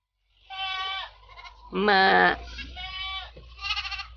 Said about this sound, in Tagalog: ang galing ng mga kambing